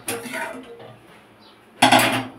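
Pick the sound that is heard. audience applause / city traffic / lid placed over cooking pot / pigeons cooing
lid placed over cooking pot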